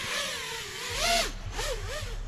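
An iFlight AOS 5 V5 FPV drone at half throttle near a brick wall, a buzzing whine of motors that swoops up and down in pitch, with a louder surge and low thumps toward the middle, no talking.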